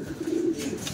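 Racing pigeons bred for long-distance flights, cooing softly and steadily at close range in a low, murmuring tone, with no talk.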